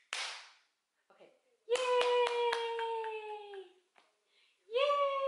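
A handful of sharp hand claps ring out in a home while a baby is nearby, mixed with a small child's high, drawn-out squeals and babbling, with quiet gaps between the bursts.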